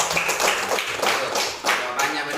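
Classroom students clap for group 3 in a short, loud burst of close hand claps with some chatter mixed in.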